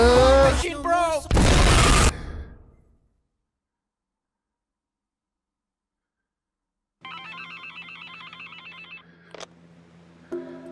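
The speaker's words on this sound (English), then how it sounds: "Well, the phone's ringing." In a video game, a voice and a harsh burst of noise give way to silence, then an electronic telephone rings in warbling tonal pulses, with a few sharp clicks.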